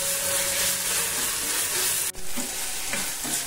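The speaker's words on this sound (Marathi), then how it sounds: "चांगलं परतून घ्यायचं." Two spoonfuls of ginger garlic paste sautéing in a hot pan, a loud continuous sizzle and hiss with stirring scrapes, briefly dipping in the middle before resuming.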